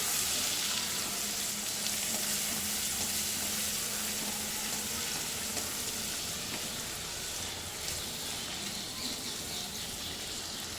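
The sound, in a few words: large tomato roasting in a pan until soft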